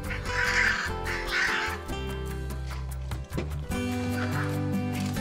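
Hyacinth macaws in the Pantanal give a few loud, harsh squawks at intervals, set against steady background music.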